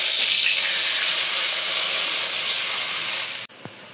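Steam hisses loud and close as water meets a hot kadai after potatoes were fried, a broad, even roar that stops abruptly near the end, leaving a faint quiet tail with one small knock.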